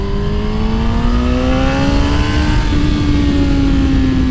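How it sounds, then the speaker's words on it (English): A 2006 Suzuki GSX-R1000 (K6) motorcycle in first gear sends a loud, steady engine tone sweeping upward in pitch as the revs climb, heard close and alone with no talk. "Yeah, definitely a lot more engine braking available at the top end of the RPM band"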